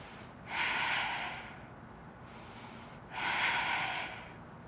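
Slow, audible breathing during a yoga bridge exercise: two long, broad airy breaths, each lasting over a second, with a pause between them, fairly close and alone with no talk.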